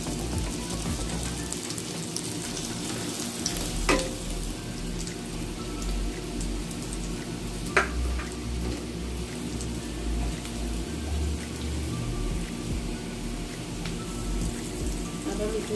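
Potatoes for a low-oil potato curry cook in a pan, producing a continuous rain-like crackling sizzle with a few sharp clicks from the utensil.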